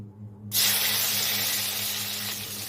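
Tomato hits a hot pan for sabu khichuri, setting off a sudden loud sizzle after a short quiet moment, then a steady hissing fry that eases slightly as it continues, with no talking.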